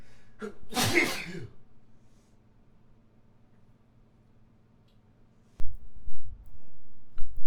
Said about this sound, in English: Oh God, I had a sneeze for a bit